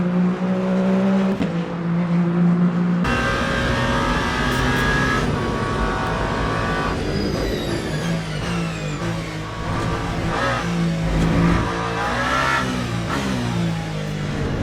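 Race car in the Le Mans Ultimate sim at the 24 Hours of Le Mans, engine loud and close, revving up and down through a sequence of curves with gear shifts and rising whines, steady throughout.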